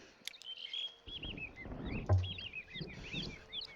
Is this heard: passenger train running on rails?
no